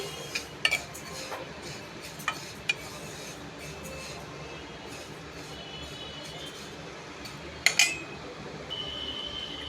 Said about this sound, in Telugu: ఇదిగోండి నువ్వులు వేయించుకోవాలి. ఇవి కూడా రోస్ట్గా వేయించుకోవాలి.